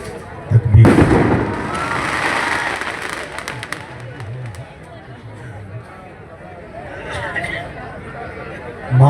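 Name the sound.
firecrackers from a wedding hall behind the venue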